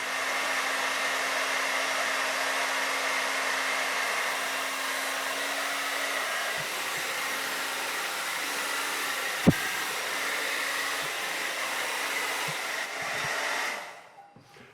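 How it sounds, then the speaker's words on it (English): A hair dryer blows continuously and loudly while drying and shaping a beard and mustache, a steady whooshing roar with a faint hum, cutting off at the end. "using heat hair dryer to actually form the curls or to shape a mustache"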